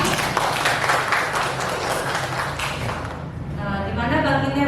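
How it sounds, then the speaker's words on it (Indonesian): Students in a classroom applaud a classmate with a dense burst of close clapping that thins out after about three seconds, while a voice begins speaking over it. "Tepuk tangannya mana buat Alam."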